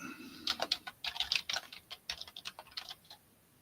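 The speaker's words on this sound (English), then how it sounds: "I keep being dyslexic in my typing tonight." Rapid computer-keyboard typing during a live evening online auction of vintage items, with quick uneven bursts of light clicking keystrokes close by and no one speaking.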